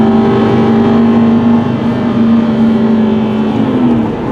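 An Aston Martin pulls hard down a straight in second gear, its engine holding a loud, steady, rising drone for several seconds with no talking over it.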